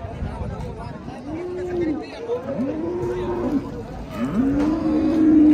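At the Ghodegaon buffalo market, a young buffalo gives three long, rising-and-falling moos close by, the last one loudest, over crowd chatter and nearby talk.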